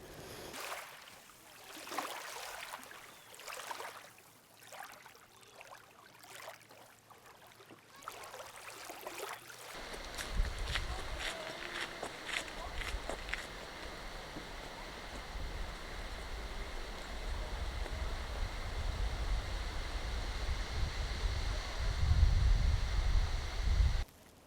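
Wind gusting across Arrowhead Lake in Algonquin, a broad rushing roar that swells and builds, fainter and patchy at first, then steady and stronger, loudest near the end.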